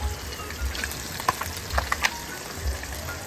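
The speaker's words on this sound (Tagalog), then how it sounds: "prito po yung ulam nila. Prito isda." Fish frying in a farm kitchen gives a steady, fairly quiet sizzle and crackle with a few brighter pops, heard close up without talk.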